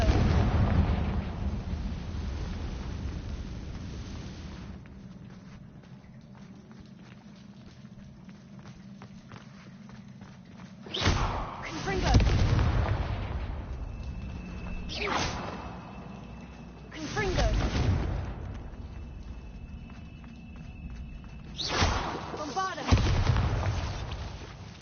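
In the Hogwarts Legacy game, repeated Confringo spell blasts go off as sharp booming explosions at irregular intervals over a rumbling, moving ambient background.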